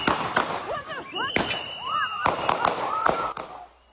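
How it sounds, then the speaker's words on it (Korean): Several sharp, loud bangs like gunshots ring out in quick irregular succession during a scuffle as immigration agents arrest a man on the ground, with shouting voices and cries between the cracks. "이 과정에서 갑자기 총성이 울리고"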